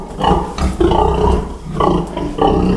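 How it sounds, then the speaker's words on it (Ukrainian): Pigs grunt in a pen, several close, loud rhythmic grunts in short bursts with brief pauses between them. "Диви, захрюкали, так?"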